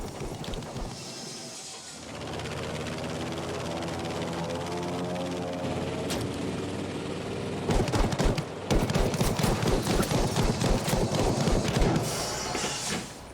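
Fighter plane strafing infantry in a Pacific-theater air combat video game: a steady engine roar, then a long rattling burst of rapid gunfire in the second half.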